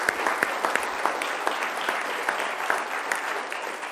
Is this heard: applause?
yes